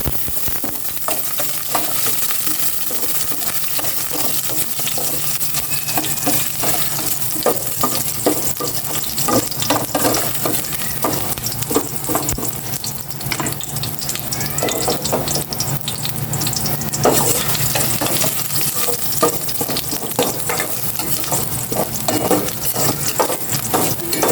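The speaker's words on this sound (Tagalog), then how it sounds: "Gisa ko na tong luya muna." Ginger sautéing in hot cooking oil gives a steady, close sizzle that runs the whole time, with scraping stir strokes and clinks throughout and no talk.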